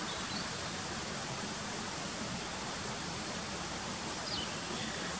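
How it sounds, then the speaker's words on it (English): A waterfall at O'Sullivans Cascade rushes steadily in the background, a constant broad wash of falling water with no breaks, fairly soft and even. "You can just hear the waterfall behind me. That's the Cascade."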